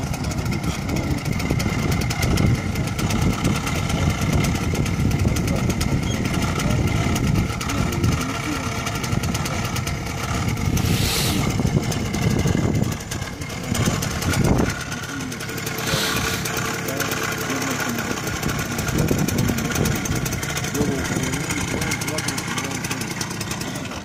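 A motorcycle engine idles steadily throughout a beginner's first riding lesson, a constant mid-level rumble with an instructor talking over it for most of the time.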